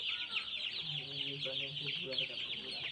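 Broiler chickens on a poultry farm cluck and murmur continuously as a close flock. Their calls overlap at a steady moderate level, with no talking heard.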